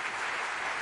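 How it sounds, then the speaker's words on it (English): Brief burst of audience applause for Dr. Kalam at a college event, a dense, even wash of clapping from a large hall, moderately distant and continuous. "A round round of applause"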